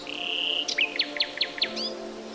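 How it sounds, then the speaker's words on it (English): Birdsong in a forest: a run of about five quick, bright chirps in a rhythmic series, preceded by a thin sustained whistle, set against a steady faint hum of background ambience. "You hear birdsong up above."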